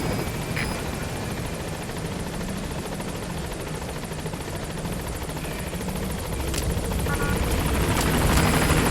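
A helicopter in the Metal Gear Solid V video game approaches a landing zone, its rotor beating as a dense, steady whir that grows louder toward the end.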